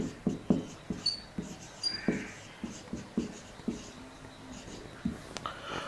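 Pen or marker writing on a board during a Hindi-language chemistry lecture on hydrogen bonding and ortho-nitrophenol, heard as a steady series of short, close scratching strokes with faint breathing and no speech.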